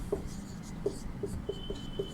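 A pen or pencil writing out an answer by hand, with a series of short scratchy strokes and taps spaced at irregular intervals, close and fairly quiet, with no voices.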